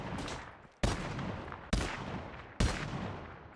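Gunshots are fired at zombies in a CoD Zombies-style game built in Unreal Engine 5, four loud, evenly spaced single shots, each followed by a decaying echo tail, with no speech.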